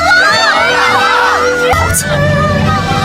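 Cartoon monkeys in a Chinese animated fight story shout and cheer for Wukong, a loud crowd of high yelling voices and whoops that swells in the second half, with lower chanting beneath.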